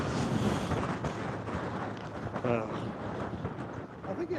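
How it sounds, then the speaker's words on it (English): Strong gusts of wind roar and buffet the microphone on an open high plains morning, loud and continuous, with people talking over the noise. "this series of gusts nearly just knocked us both"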